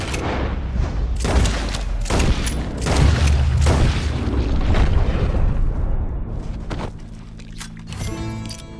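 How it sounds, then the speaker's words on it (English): Booming gunfire in Red Dead Redemption 2 during a tense encounter with a beast: several heavy blasts land in the first half, followed by rumbling fades and a low sustained hum, with no talk. "He shot the thing."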